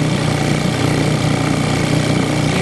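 A 1938 Evinrude Sportsman antique outboard engine runs steadily at a constant buzzing drone, loud and close, with no pauses or voices.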